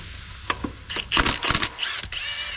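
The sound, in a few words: ratchet removing thermostat bolts on a Chevy Tahoe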